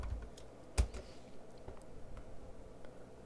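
A few keystrokes on a computer keyboard entering a command in Git Bash, faint against a quiet room, with one sharper tap standing out among softer clicks.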